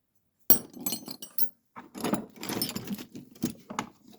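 Allen wrenches and other small metal tools from a storage locker haul being handled, giving a run of close, bright clinks and rattles in irregular bursts, with a short pause before they resume.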